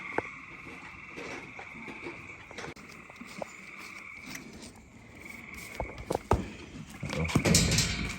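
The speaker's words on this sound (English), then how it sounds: "You hear all them frogs?" A chorus of frogs croaks and trills steadily in the background, with scattered taps and rustling nearby growing louder toward the end.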